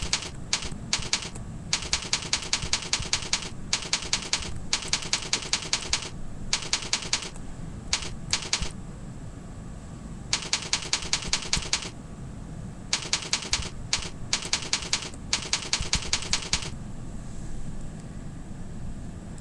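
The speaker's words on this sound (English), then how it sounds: "you just click the button and you can start typing that information in" Fingers type on a computer keyboard in rapid bursts of crisp key clicks separated by short pauses, close and clear over a low steady background hum, with no talking.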